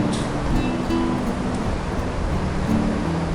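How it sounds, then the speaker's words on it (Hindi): Water flowing down over rocks beside the road at Zojila Pass, the gateway to Ladakh, with snow-topped hills around; a steady, broadband rushing close by that fills the whole clip without pause. "चट्टानों की गोद से बहता पानी एक अलग ही एहसास है।"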